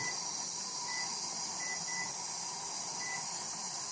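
A kitchen timer is set while steam vents from a pressure canner preserving sausage: a few short, quiet beeps spaced apart over a steady background hiss.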